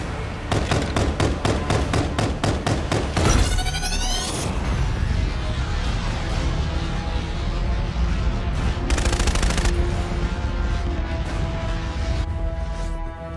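Call of Duty Infinite Warfare combat with rapid automatic gunfire in regular bursts, heavy booming impacts and a sustained roar of battle, loud and close with no voices.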